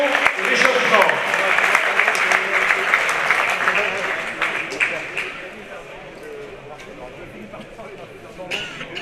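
An audience at the U23 world championship double final in Saint-Vulbas applauds the competitors, loud at first, then tapering into scattered clapping while a voice talks over it.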